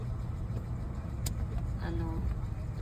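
Car driving home from Walmart, heard from inside the cabin: a faint, steady low road and engine drone with no voices.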